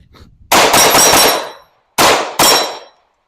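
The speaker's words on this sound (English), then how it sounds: "So this is just a little range day with the Glock 45 over here." Glock 45 pistol fired at a shooting range: a rapid, very loud burst of shots, then after a pause two more quick bursts, each one echoing and ringing out before dying away, close to the shooter.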